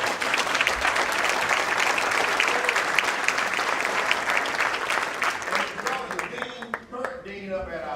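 Sustained audience applause fills a hall at a pre-law event, loud and dense throughout, thinning and tapering off near the end as scattered claps and voices emerge.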